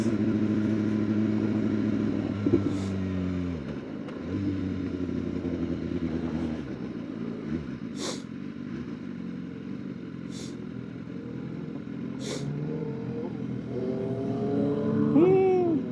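A 2016 BMW S1000RR sport motorcycle engine drones and revs continuously up close, pitch rising and falling with gear changes, and a few sharp clicks along the ride.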